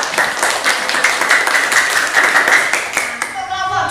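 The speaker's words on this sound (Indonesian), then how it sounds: "tepuk tangan dulu untuk" A class of pupils claps for a student group presenting a drawing of the ruminant digestive system, dense steady clapping filling the room for several seconds and thinning near the end, with voices mixed in.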